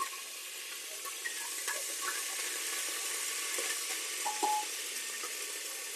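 Ginger garlic paste frying in a pan, a steady broadband sizzle that continues evenly throughout with faint clinks and stirring touches and no voices.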